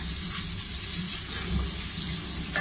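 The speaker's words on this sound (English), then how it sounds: "Look, just crisping the bacon there." Bacon crisping in a pan for a homemade seasonal soup gives off a steady, close sizzle and frying hiss that runs unbroken through the whole stretch, with no talking over it.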